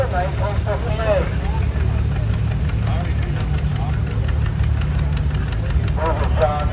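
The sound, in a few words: John Deere 620 tractor engine in a parade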